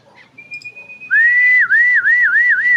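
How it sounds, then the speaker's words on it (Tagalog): A person whistles close by, a sustained steady note followed by a rhythmic warbling trill that rises and falls several times, loud and clear over quiet background. "Sipol."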